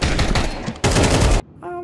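Bursts of AK rifle fire in a video game, two dense rapid volleys close and loud, each cut off abruptly, followed by a short electronic tone.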